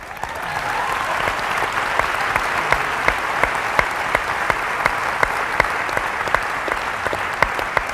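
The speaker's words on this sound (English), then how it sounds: "I'm glad everybody clapped." An audience applauds in a hall, a dense, sustained burst of clapping at steady strength with individual sharp claps standing out throughout.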